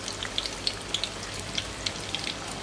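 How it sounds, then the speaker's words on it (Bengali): Cauliflower pitha, a winter-vegetable fritter, fries in hot oil with a steady, quiet crackle and scattered small pops, heard alone with no voices. "এভাবে আমি 3টে ফুলকপি পিঠা ভেজে নিচ্ছি।"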